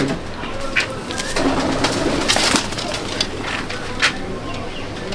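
Pigeons in a loft coo softly amid busy background chatter and occasional wing and perch noises, the low throaty calls blending with crisp clicks and rustles nearby.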